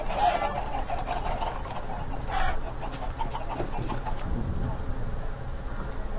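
A flock of chickens in a video game clucks and squawks repeatedly in short bursts. Players' voices chatter faintly beneath the clucking.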